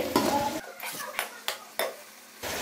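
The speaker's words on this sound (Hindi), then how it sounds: "जस्ट एक से दो मिनट हम इसको और भूनेंगे" Mutton for yakhni pulao frying in oil in a pot, with metal spoon clanks and scrapes stirring the meat over a soft sizzle, close and intermittent, under brief speech.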